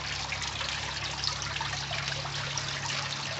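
Water trickles steadily into a plastic bag holding a fish, a continuous close, fairly loud splashing stream with no talk over it.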